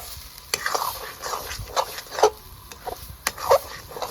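Lote fish cutlet mixture sautéing in a pan, with a soft background sizzle and intermittent spatula scrapes and taps, close and moderately loud.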